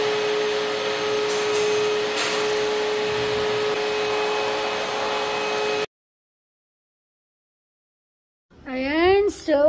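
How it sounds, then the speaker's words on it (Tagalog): A vacuum cleaner runs indoors at steady volume for nearly six seconds, then cuts off into silence before a burst of other sound near the end. "katatapos ko lang mag-vacuum dito sa loob"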